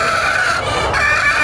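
A pet chicken clucks close by, its low, throaty murmurs continuing steadily over a constant background hiss with no pauses or talk.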